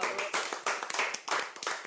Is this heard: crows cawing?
no